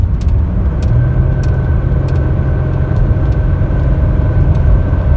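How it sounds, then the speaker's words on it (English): Toyota Camry V6 from the 2002-2006 generation with a low oil pressure fault, its engine a loud, steady mid-range drone heard from inside the car as it accelerates and then eases off, with no talking. "We're gonna accelerate."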